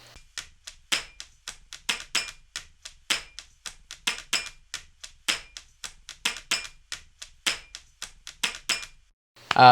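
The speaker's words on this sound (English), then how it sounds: "I started hitting my table and I had like a glass on the table" Sharp knocks on a tabletop with a glass on it repeat in a steady rhythm, each one with a faint glassy ring. A louder clatter comes at the end.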